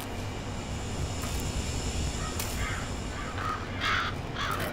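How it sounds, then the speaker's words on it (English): Crows cawing in a horror VR video game set in a mental hospital, several harsh caws scattered across the clip, moderately loud over a steady windy ambient bed. "Whoa, hey birds."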